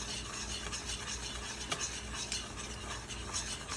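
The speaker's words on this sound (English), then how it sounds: "Give that a nice stir and mix it" Chicken with oregano is stirred in a hot pan, a spoon scraping and clinking steadily against the metal over a constant close sizzle, with no talking.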